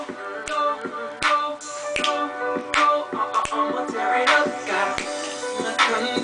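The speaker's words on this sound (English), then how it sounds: "Snap your fingers, Dominic." Sharp, close finger snaps repeat in a steady rhythm of roughly one per second over a thick bed of music, with no one talking.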